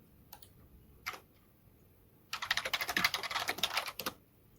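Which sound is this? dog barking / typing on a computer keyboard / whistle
typing on a computer keyboard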